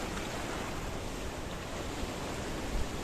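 Rough sea surf breaks along the rocky Paphos coastline in Cyprus, a steady broadband wash of water with wind rumble on the microphone and no voices.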